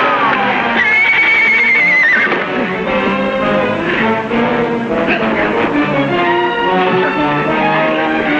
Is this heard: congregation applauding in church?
no